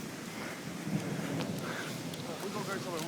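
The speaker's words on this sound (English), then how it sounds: "The thunder and lightning's getting so close." A thunderstorm in New Hampshire: steady dense rain hiss with low rumbling thunder rolling underneath, fairly loud and continuous, with faint voices in the background.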